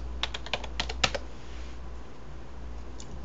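Quick bursts of keystrokes on a computer keyboard, a cluster of crisp close clicks in the first second or so, then a near-quiet pause with a faint hum underneath and one last tap.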